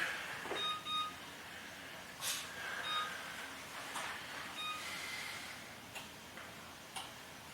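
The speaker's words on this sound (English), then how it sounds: "Timer." An oven timer is being set while corned beef cooks. It gives a few faint, short beeps at irregular intervals over a steady background hum in a kitchen.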